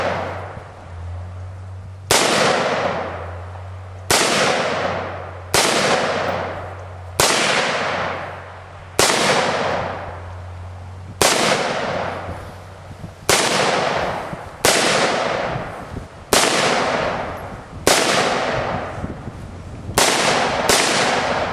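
Gunshots crack out one at a time at a shooting range, about a dozen loud, close reports spaced a second or two apart, each with a ringing decay, over a low hum.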